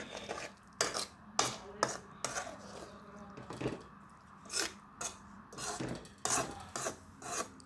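Repeated scraping and rubbing of a utensil against a pan while stirring carrot, beans and egg stir-fry with a cup of water added, irregular strokes with clinks, close by and moderately quiet, no talking.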